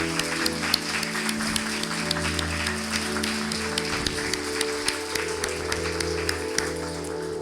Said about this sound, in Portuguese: Você pode aplaudir a Jesus pelo efeito dele em nós, de multiplicação?